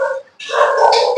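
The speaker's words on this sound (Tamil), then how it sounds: "இந்த டாக் கத்திட்டே இருக்கு, அது கொஞ்சம் நாய்ஸியா இருக்கும்" A dog barks close by in a home kitchen, with a short yelping call, a brief pause, then a longer loud bark or howl that fills most of the moment.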